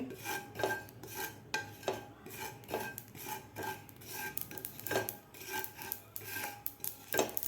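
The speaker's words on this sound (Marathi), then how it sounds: "व्यवस्थित आपली खसखस सुद्धा भाजलेली आहे कारण आपला पॅन खूप गरम आहे" A spoon scrapes and clinks steadily against a hot pan while poppy seeds are roasted and stirred for panchakhadya prasad, giving regular metallic strokes close by with a faint crackle underneath and no voices.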